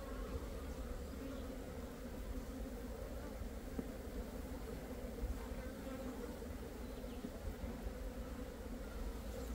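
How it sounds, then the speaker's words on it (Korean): Asian honeybees buzz steadily around a hive box set up to attract a swarm, a dense continuous drone of many insects with no talking. "동양종 꿀벌이를 공장에 유인하는 건 정말 쉽습니다"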